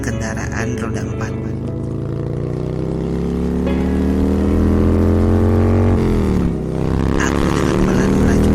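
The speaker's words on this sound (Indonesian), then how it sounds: "Aku dengan pelan melajukan motorku karena takut mengganggu karena suara knalpotku berisik." A motorcycle with a noisy exhaust rides steadily, its engine drone rising and falling slightly through gear changes. Produced as a radio-drama sound effect, the engine holds a constant loud rumble throughout.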